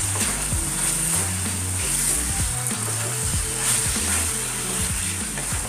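Crushed ginger and garlic frying in a pan for Chettinad pepper chicken, a steady close sizzle with low hum and occasional stirring under it, no talk.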